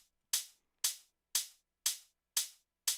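A hi-hat sample in Ableton plays on quarter notes, six crisp, bright ticks evenly spaced about half a second apart. Each decays quickly into silence, with no other sound.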